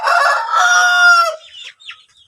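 A close, loud rooster or chicken call lasts about a second and a half, followed by a few shorter, fainter clucks from the same bird, with a sick chicken suffering from a rattling respiratory illness being treated.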